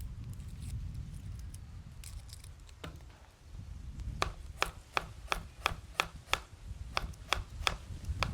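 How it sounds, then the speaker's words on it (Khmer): A knife chops shallots and garlic on a board, first in soft muffled strokes, then in a run of sharp, evenly spaced taps, close and clear against a quiet kitchen. "ខ្ញុំចាប់ផ្ដើមហាន់ខ្ទឹមក្រហមខ្ទឹមសដើម្បីយើងធ្វើទឹកជ្រលក់វាហើយ"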